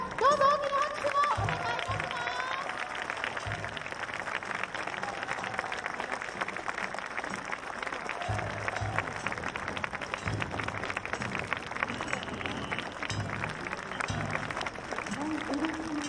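Crowd applause at the Nagasaki Kunchi festival in Minato Park, a sustained dense clapping from a large outdoor audience with a festival announcer talking over it throughout.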